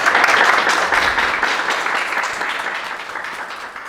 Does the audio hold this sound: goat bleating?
no